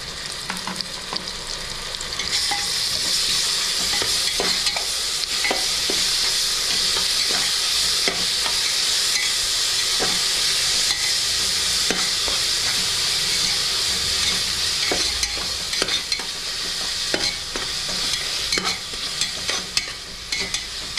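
Ginger-garlic paste sautés with golden onions in a pan for ghee rice, a loud continuous hissing sizzle with regular spoon scrapes and stirring knocks throughout, close by and without talk.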